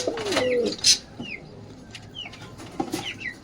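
Two visiting pigeons at a home coop coo in low throaty bursts, with short chirps and calls from other birds scattered around them, close and clear with no talk.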